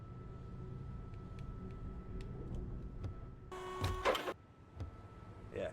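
Low mechanical rumble of an electric pallet truck forklift in a video game, with a short harsh scraping burst against the ground partway through, moderately close, no talking.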